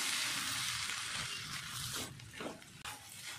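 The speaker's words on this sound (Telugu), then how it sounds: "పోపు అంతా కలుపుకుందాం." Hot tempering being mixed through cooked lemon rice in a pan, a faint sizzle that fades as the spoon scrapes and turns the rice in a few soft strokes near the end.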